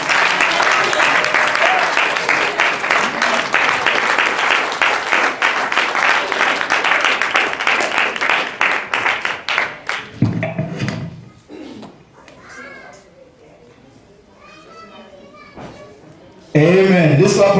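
Church congregation at a pastor's departure celebration claps in a loud sustained burst that breaks off around ten seconds, followed by scattered voices and a few clatters, then a sudden loud return of noise at the end.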